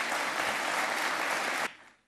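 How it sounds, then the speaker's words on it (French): Loud, dense applause from a conference audience at a Ukraine aid fundraising event, a solid wash of clapping that cuts off abruptly near the end. "et vous pouvez les applaudir."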